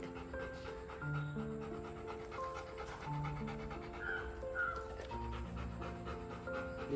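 Dogs panting steadily on a morning walk, rhythmic breathy huffs close by over a busy background with tonal hum and occasional faint whimpers.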